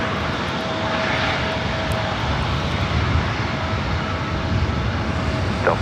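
Airliner jet engines roar steadily at LAX airport, a loud continuous broadband rumble with a faint tonal whine, heard alone without talk.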